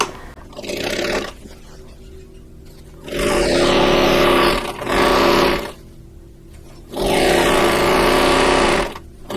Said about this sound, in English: I'm going to sew this with a 1/4 inch seam allowance.